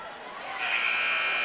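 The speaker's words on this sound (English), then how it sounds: "And Copeland almost got that shot to fall at the buzzer, but it's no good." Basketball game-clock buzzer sounding at the end of the first quarter in a high school game, Cleveland High against Bradley Central: a loud sustained electronic drone starting mid-clip over gym crowd noise.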